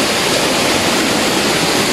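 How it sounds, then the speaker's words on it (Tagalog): The second of twin waterfalls roars steadily, a dense, loud, unbroken rush of falling water filling the whole moment without any voices. "Ayan yung pangalawang falls."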